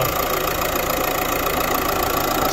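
A car's transverse-mounted engine with a six-speed manual, idling steadily at close range, an even mechanical hum and rattle with no voices over it.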